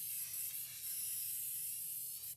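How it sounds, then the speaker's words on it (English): A spray can held about a foot from a paper ornament gives a steady, light hiss of paint mist that runs evenly for the whole moment. It is fairly close, with no voices over it. "I'm holding my can at least a foot away and lightly spraying the surface."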